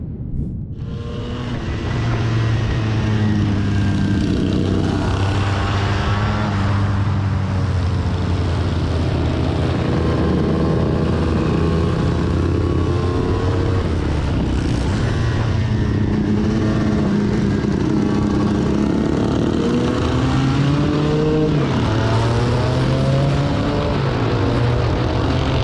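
Vintage motorcycles and scooters race on a track, with old Harleys, pre-war machines and 1970s racing bikes droning loud and steady as engines rise and fall through the whole stretch.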